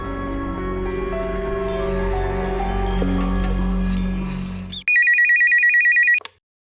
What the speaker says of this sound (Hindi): फोन आया था